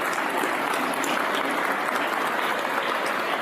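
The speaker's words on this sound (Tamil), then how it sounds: "ஆதம்பாக்கம் நகரத்தார் சங்கத்துக்கு ஒரு நல்ல கரகோஷம் கொடுக்கலாம்" An audience at a Nagarathar chess tournament event gives a round of applause for the Adambakkam Nagarathar association, steady continuous clapping throughout.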